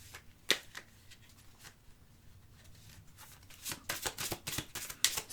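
A deck of tarot-style cards is shuffled close by in a quiet room, with soft scattered flicks early on and then a denser run of quick riffling snaps near the end, faint overall and without talk.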